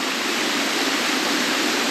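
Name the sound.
small waterfall off a rock ledge, Rattlesnake Falls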